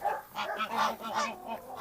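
A flock of geese honks repeatedly at close range, overlapping calls rising and falling in quick succession, with no talk over them.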